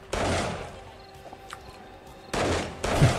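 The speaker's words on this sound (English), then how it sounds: "I just love seeing the gunfire from around the corner in a room." Gunfire in the 7 Days to Die survival game comes as bursts of rapid shots, one at the start and two more near the end, loud and close with quieter gaps between them.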